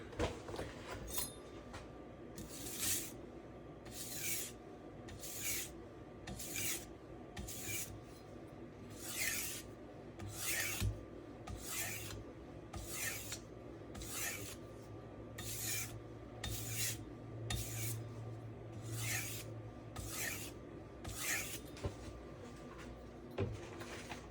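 A knife edge is stropped on a compound-coated strop made of copy paper wrapped around a Norton Crystolon oilstone, giving about fourteen evenly spaced raspy strokes that are close but quiet.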